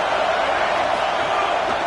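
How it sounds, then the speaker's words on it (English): A dense, loud football stadium crowd roars continuously in a broad wash of cheering, steady with no pauses. "Listen to this crowd just shaking the girders of this place"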